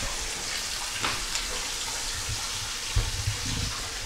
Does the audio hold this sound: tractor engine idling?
no